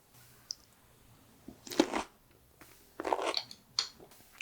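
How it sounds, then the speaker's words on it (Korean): Crunchy cucumber kimchi (oi sobagi) is bitten and chewed close up in two or three short, crisp bursts with quiet gaps between them, and no one talks. "그럼 오이 소박이 하나 먹어볼게요"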